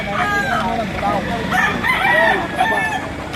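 Roosters crow repeatedly nearby, several overlapping cock-a-doodle-doo calls against a busy outdoor background in Lipa, Batangas.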